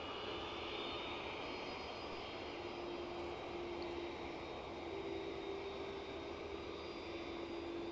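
Aegean Airlines airliner on final approach to Edinburgh Airport, a steady distant engine roar with a faint whine holding level throughout, no voices.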